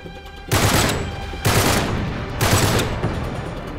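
Bursts of heavy gunfire in Uncharted 3, three loud broadband volleys about a second apart, each decaying into a rumbling tail, with no talk over them.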